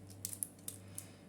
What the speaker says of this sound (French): ça coupe pas du tout la toile, puis ça coupe le papier